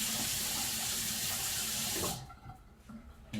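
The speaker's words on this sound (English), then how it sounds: "Make sure you got that soap and warm water" Warm water runs steadily from a faucet into a sink as hands are washed with soap, a loud continuous splash that cuts off abruptly partway, leaving quieter drips and light handling noises.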